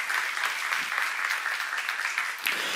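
A church congregation at a Bible academy session claps steadily and briskly throughout, a continuous crowd of hands with no break, fairly close and even in loudness.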